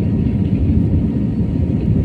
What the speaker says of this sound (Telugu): ఫ్లైట్ ఇంకా ఎగరలేదు కానీ స్పీడ్ దాదాపు